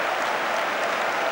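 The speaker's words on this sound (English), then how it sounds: "Well, warm applause for an absolutely fantastic achievement from Frank Lampard." A stadium crowd at a Chelsea versus Aston Villa Premier League match applauds Frank Lampard with steady, dense clapping that fills the air evenly from start to finish.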